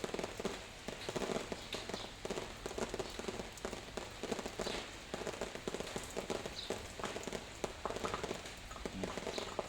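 Steady afternoon rain in the countryside, a dense continuous patter of drops on surfaces with scattered sharper splashes, moderately loud throughout and without talk.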